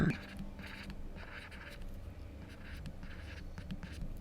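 A teacher writes out a fractions explanation, giving soft intermittent scratching strokes in short bursts, quiet and close, with no voices.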